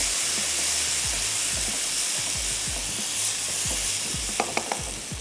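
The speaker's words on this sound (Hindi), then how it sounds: "थोड़ा सा मैं इसको और करती हूँ फ्राई।" Goat brain (bheja) frying steadily in hot canola oil, a continuous close sizzle broken by repeated low stirring scrapes and a few sharp spatters near the end.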